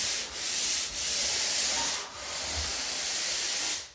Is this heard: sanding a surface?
yes